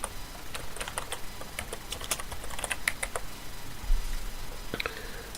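A domain name is typed in lowercase on a computer keyboard, with a steady run of crisp, close key clicks in an irregular rhythm and no speech over them.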